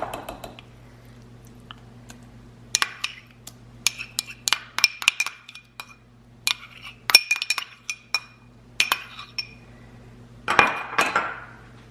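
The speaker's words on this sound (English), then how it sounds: "So I'm gonna keep mixing, and then I'm gonna fold in the pumpkin puree" A spoon scrapes and clinks against a mixing bowl while whole wheat pumpkin muffin batter is stirred, with irregular close taps and soft squishy scraping over a low steady hum.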